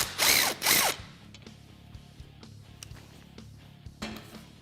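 Ratchet or power tool working on the 14mm brake caliper bolts of a Kawasaki Teryx KRX 1000, with two loud whirring bursts at the start followed by faint clicks and a final short burst.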